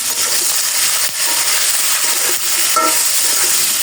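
Turmeric, dry chili and cumin sauté in a pan with a constant close sizzle and faint stirring scrapes, with no voices.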